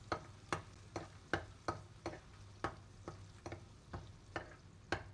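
Garlic in cooking oil in a pan, stirred while it fries golden brown for chicken adobo, with a soft steady sizzle broken by about a dozen regular scraping stir strokes, close and fairly quiet, no talking.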